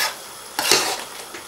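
Keema with coriander and garam masala being stirred in a pan, a quiet low sizzle broken by a short burst of spatula scraping and clattering against the metal, then a faint hiss, with nobody speaking.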